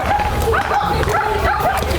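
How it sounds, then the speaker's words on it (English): A dog at a high school baseball game gives a string of short, repeated yelps and whining barks, fairly close and loud over outdoor background noise. "That dog just attacked him."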